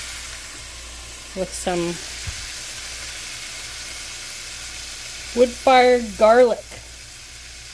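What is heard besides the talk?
meat searing in olive oil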